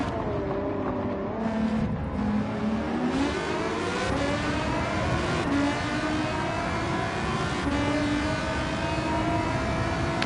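Volkswagen GTI Vision Gran Turismo race car engines in Gran Turismo 7, a loud continuous drone with pitch climbing and shifting as the cars accelerate through gears, steady and close throughout with no talk.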